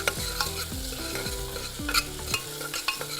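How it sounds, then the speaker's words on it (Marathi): Onions and spices fry in a pan for mutton biryani, sizzling steadily up close while a metal spoon stirs and scrapes against the pan in quick, repeated strokes. "हे चांगलं फ्राय झालंय"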